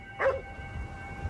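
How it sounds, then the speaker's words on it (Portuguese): A dog in the video game Ghostwire: Tokyo gives a single short yip-like bark near the start, then only a low game ambience hum remains. "Ele tá latindo pro quê?"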